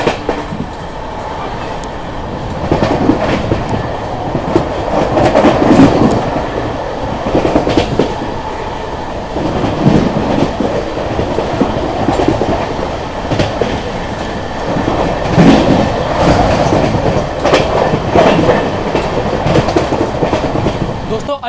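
Amrit Bharat Express passenger train running at about 110 km/h, heard from inside as a steady loud rumble with rhythmic clickety-clack of wheels over rail joints throughout.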